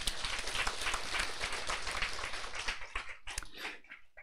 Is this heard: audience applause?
yes